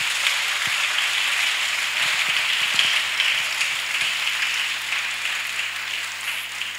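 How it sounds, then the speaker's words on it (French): A church congregation applauds and cheers for Jesus Christ at a spiritual gathering. The dense, sustained clapping continues throughout and fades slightly toward the end. "Acclamons pour Jésus-Christ"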